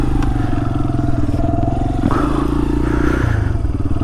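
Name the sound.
street legal dirt bike riding after top end rebuild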